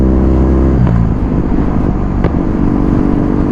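Kawasaki retro motorcycle engine droning steadily through a test ride, a continuous loud low rumble with wind noise and a slight shift in pitch near the one-second mark, close up and with no voices.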